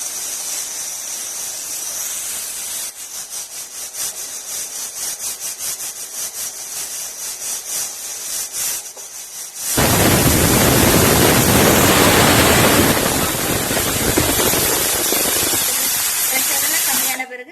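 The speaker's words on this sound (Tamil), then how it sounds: "இப்போ ஒரு விசில் வரப்போகுதுங்க." Pressure cooker on a stove while green tomato biryani cooks: a low rhythmic hissing, then the whistle bursts out as a loud, steady, rushing steam shriek that holds for several seconds.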